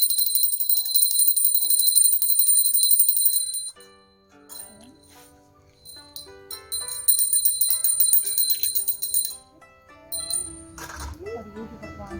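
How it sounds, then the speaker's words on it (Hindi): A hand-rung prayer bell jingles brightly and continuously during a Vat Savitri puja at home, loud at first, then pausing and resuming, with voices talking and other household sounds mixed in. "अब थोड़ा घंटी बजा कर जगा देते हैं।"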